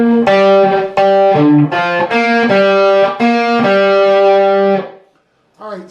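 Overdriven electric guitar plays the final variation of a riff once, loud and close, a run of punchy sustained notes that rings out and fades near the end before a short pick noise.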